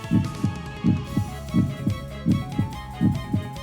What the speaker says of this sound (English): the sound of my heart pounding